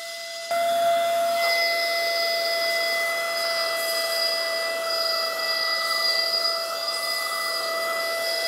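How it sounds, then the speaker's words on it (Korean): A portable camping vacuum cleaner running its rear blower function, giving a steady, loud high-pitched whine and airy hiss that switches on abruptly and holds constant throughout, with no talking. "의외로 자주 쓰는 기능은 제품 후면에 바람을 불어주는 블로어 기능이 있는데"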